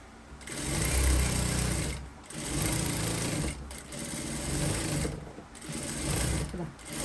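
A sewing machine stitches fabric in long, loud whirring runs separated by brief pauses, close up and steady throughout.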